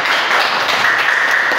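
Steady applause from a class audience after a presentation, a dense even patter of many hands clapping at once with no voices above it.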